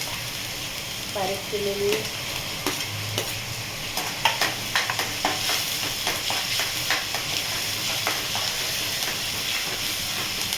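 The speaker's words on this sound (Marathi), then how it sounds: "कढई तापली आहे, त्यामध्ये टाकून घेते मी मस्त असं लसूण आणि मिरची" Chopped garlic and green chili frying in a hot kadhai, sizzling steadily while a spoon scrapes and stirs with repeated clinks, close up; someone speaks briefly near the start.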